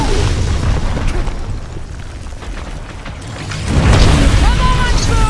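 Loud explosions and booming blasts in the video game Marvel's Guardians of the Galaxy, with a dense rumble throughout that swells into a bigger burst near the end, mixed with game voices.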